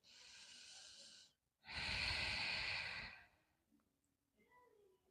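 Deep yoga breaths in downward-facing dog pose during a seated Ashtanga-inspired practice: a long breathy exhale, a short pause, then a longer, louder breath, close and alone, followed by faint quiet.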